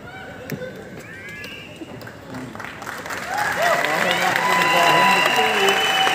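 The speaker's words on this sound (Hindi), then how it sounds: "तालियां किसके लिए बजा रहे हो?" Scattered clapping from an audience starts thin, then swells after a few seconds into louder, fuller applause with cheering voices and talk mixed in.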